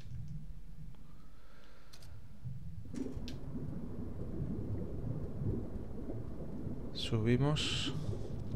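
A thunderstorm in the video game FAR: Changing Tides, with a low continuous rumble of thunder and rain that swells toward the end, while a voice briefly speaks over it.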